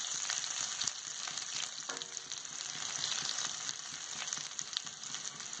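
Sliced onions sizzle in hot oil in a pan for paneer fried rice, a close, even crackling hiss with small pops that runs steadily without talk.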